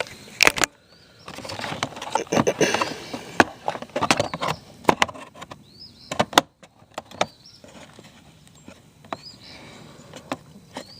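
Rear seat cowl of a Honda CBR 600RR being refitted with screws: scattered close clicks, plastic knocks and brief whirring bursts come in irregular clusters over several seconds, with no talk.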